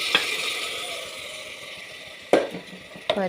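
Lentils sauté in a pan for small onion sambar, a soft steady sizzle with a few sharp clinks of a spoon against the pot near the start and toward the end.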